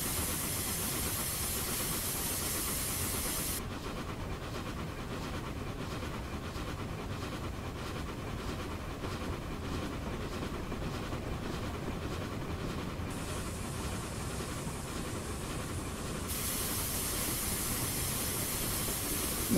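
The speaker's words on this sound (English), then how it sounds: "forgive if we're blowing off with the steam engine, because I just need to have I need plenty of boiler pressure" A steam locomotive in the Train Simulator 2022 video game blows off steam, a loud, steady roaring hiss that runs through the whole stretch and swells and eases over a rumbling engine and rail background.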